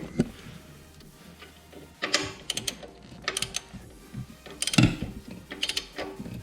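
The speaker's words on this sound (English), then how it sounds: "I'm just going to go ahead and pull this bolt out now." A ratchet wrench clicks in short bursts while a 13mm bolt is worked out of the dump pipe on a 79 Series Land Cruiser with a 1HD-FTE engine. Close mechanical ratcheting comes in irregular clusters with brief pauses between them.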